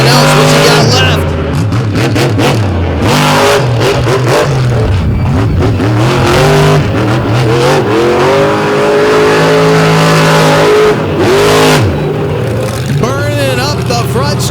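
Monster truck engine at Lake Erie Speedway revving hard and continuously through night-race cyclone donuts, loud and close with rising and falling pitch, an announcer talking over it throughout.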